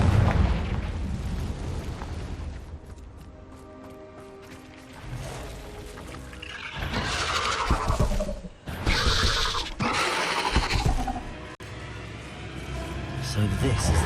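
Confringo fire spell in Hogwarts Legacy, cast inside an Acromantula cave, bursting as a series of loud fiery explosions and rumbling blasts in the second half, following a quieter stretch of game ambience.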